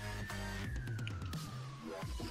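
Police siren in the SA-MP game, a steady wailing tone that slowly sweeps down in pitch, running continuously over busy low engine and music rumble throughout.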